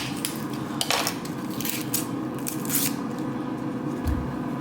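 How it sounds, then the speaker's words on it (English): A knife slices the roots off oyster mushrooms on a board, giving a run of soft, close, irregular cuts and scrapes with brief taps. "And I'm cutting the root off."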